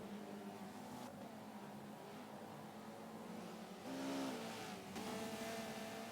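Audi and Honda touring cars race at Brands Hatch in a video game, with a steady synthetic engine roar and a passing car's rising whine partway through.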